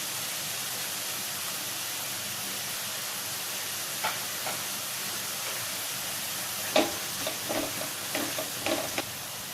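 Ginger garlic paste going into onions frying in a pan for a soya chunk dry roast, a steady soft sizzle with a few stirring clinks and scrapes toward the end.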